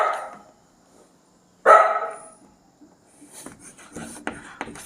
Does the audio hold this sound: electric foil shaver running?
no